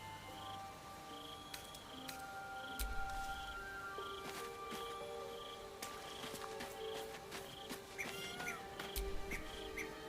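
A cat meows a few times inside the Baldur's Gate 3 video game, short tonal calls set against steady game ambience and background music, moderately loud with no talking.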